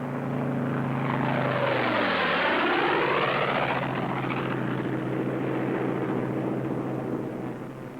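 Fighter planes fly over in loose string formation and peel off one after another, their loud propeller engine roar sweeping past with a falling pitch before settling into a steady drone.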